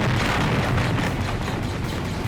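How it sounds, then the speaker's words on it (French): Loud, dense rumbling explosions fill the air continuously at close range, a thick sustained roar with scattered bursts, no voices. "Ça fait des belles explosions quand même"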